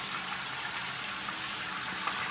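Water pours steadily into a clogged toilet bowl, a continuous hissing gush close by with no pauses and no voices.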